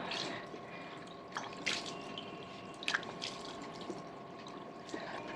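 Cold running water splashing and dripping while someone washes their face at a sink, with intermittent small splashes over a steady trickle, close by.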